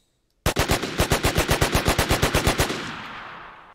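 An AK rifle in the GTA San Andreas multiplayer mod MTA fires a loud, close burst of about seventeen rapid, evenly spaced shots, then cuts off into a short fading echo.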